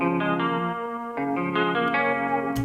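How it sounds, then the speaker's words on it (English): Short, snappy flute one-shot samples in a quick melodic run, each note clipped and bright, with a light echoey chorus shimmer and no voices. "Just some real short, snappy flute one-shots."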